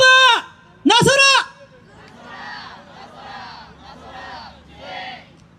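Protest rally crowd at a Homeplus rescue general uprising in Gyeongnam chants in unison: two loud, sharp group shouts led by a voice, followed by a softer, sustained murmur of cheering and babble.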